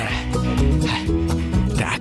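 A dog at a dog-friendly café gives a run of loud, close whimpering yips and bow-wow sounds, with some voice-like noise mixed in.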